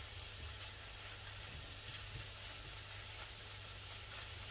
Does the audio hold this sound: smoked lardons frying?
yes